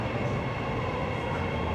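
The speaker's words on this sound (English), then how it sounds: "here comes my train" A driverless metro train arrives at a station on the Riyadh Metro, a loud, steady rumble and roar of the cars rolling in close by, with no voices over it.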